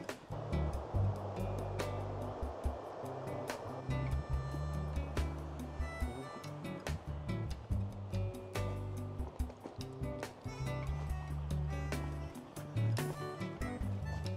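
Broadband rushing water from a stream running beneath a 700-year-old stone bridge in a Scottish glen, a steady close wash of flow with no talk.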